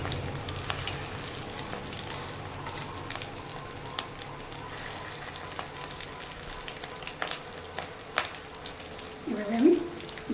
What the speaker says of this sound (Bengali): ডিমগুলো আমি ভেজে ভেজে তুলে নেব